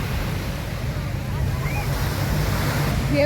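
Strong ocean waves break and wash up the shore at a crowded beach, a steady, loud roar of surf mixed with wind buffeting the microphone, with voices faint in the background.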